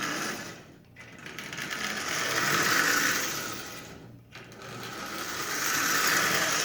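A Marx 999 toy train locomotive, freshly oiled, running along its track with a continuous whirring, buzzing motor drone that swells and fades as it circles, close and fairly loud, with brief dips in between.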